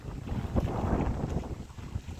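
Steady wind gusts rumble and buffet the microphone outdoors over rice paddies during transplanting, a broad continuous roar with no voices.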